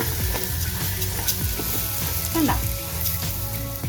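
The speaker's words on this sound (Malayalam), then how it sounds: "കഴുകി ഊറ്റി വെച്ചിരിക്കുന്ന റൈസ് തട്ടിടുക. എന്നിട്ട് ഫ്രൈ ആക്കാം." Washed, drained rice frying in a pan for chicken dum biryani, a constant close sizzle with occasional stirring scrapes, while a voice speaks briefly over it.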